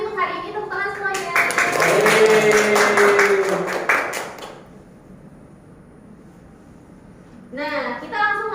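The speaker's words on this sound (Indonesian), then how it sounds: "kita apresiasi untuk hari ini, tepuk tangan semuanya" A classroom of students clapping together during a teaching practice lesson, a short burst of lively applause lasting a few seconds, set between stretches of a teacher talking.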